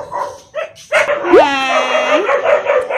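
A pet dog at home barking, a loud run of yips and barks near the listener, with people talking around it.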